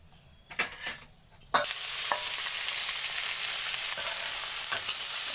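Finely chopped onions and green chillies frying in oil, a few utensil knocks and stirs at first, then a sudden loud, steady sizzle that carries on with occasional scrapes of stirring.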